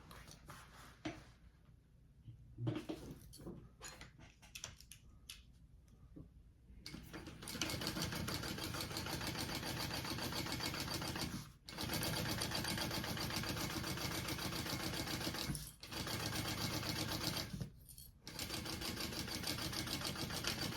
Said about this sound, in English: And we are going to sew that on.